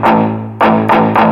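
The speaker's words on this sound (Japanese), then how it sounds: "こんな感じでブリッジミュートの音が出ると思うんですけども" Four distorted electric guitar power chords, bridge palm-muted into short, thick chugs, played loud and close in an uneven rhythm with no voices.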